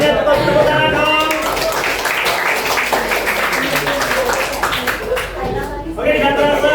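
A school class claps during a physics lesson icebreaker, a steady crowd of hands patting throughout, with talk and some chanting layered over it.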